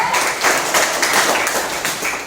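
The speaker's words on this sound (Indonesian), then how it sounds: "Ya, beri tepuk tangan buat teman kita Minggu." Pupils in a classroom applaud a classmate, a short, lively burst of clapping that stays dense and fairly loud throughout.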